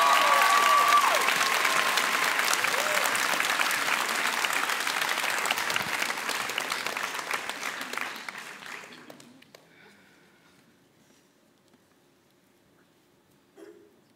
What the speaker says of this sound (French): des applaudissements ébouriffants pour Héloïse Braconnier-Oliveau